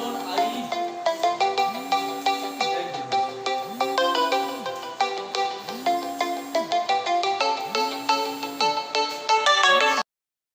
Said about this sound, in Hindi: बीच में थोड़ा सा कॉल आ गया था, फोन कॉल आ गया था